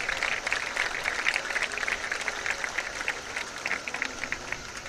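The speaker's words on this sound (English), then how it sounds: "can we show them just a bit of appreciation with your applause for all their" Outdoor crowd applause at a high school boys' track and field state prelims meet, a steady wash of distant clapping that holds evenly for the whole stretch.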